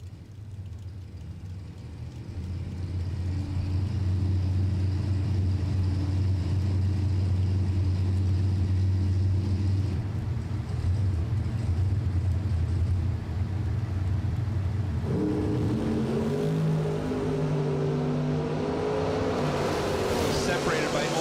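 A pair of jackpot bracket cars launch down a drag strip at a bracket racing event, their engines swelling into a loud, sustained droning roar that shifts pitch partway through as they race.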